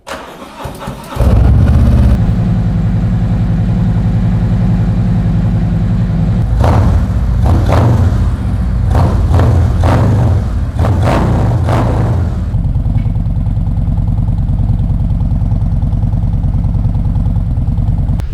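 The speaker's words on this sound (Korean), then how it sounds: "그러면 시동 확인해 보도록 할게요" A Harley-Davidson Street Glide CVO motorcycle with an aftermarket muffler cranks and fires up, then settles into a deep, loud, lumpy idle, with a burst of sharp throttle blips midway before returning to a steady rumble, close by.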